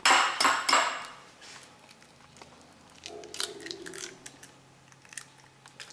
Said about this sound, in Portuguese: Quebrar o ovo.